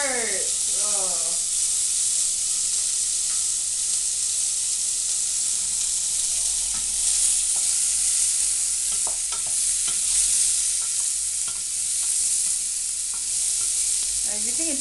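Oxtail browning in a hot pan for a stew, a steady broadband sizzle running throughout with occasional stirring clicks and scrapes, fairly loud and close, with brief tonal bursts at the start and end.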